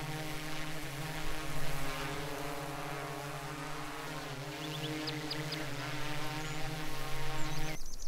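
A steady, droning propeller hum from a drone flying in the farming game Farmer's Dynasty, continuous and moderately loud with a slight pitch wobble, with a few brief chirps near the end.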